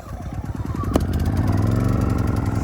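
A portable generator is pull-started on the first pull, with a brief cord rattle followed by the engine catching and settling into a steady close, chugging idle.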